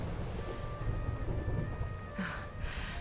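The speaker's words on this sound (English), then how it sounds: "Would you look at it thundering away out there?" Thunder rumbling through a storm in the Dragon Quest video game, a low steady roar with a brighter crackle near the end, over a faint sustained tone from the game's music.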